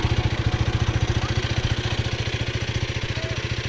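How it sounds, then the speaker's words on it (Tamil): Bajaj Pulsar NS200 motorcycle idling in neutral, a close, steady engine putter with a fast, even pulsing beat that runs throughout. "ஸ்டார்ட் பண்ணி பார்க்கலாமா? சவுண்டு கேளுங்க. நியூட்ரலில் இருக்கா?"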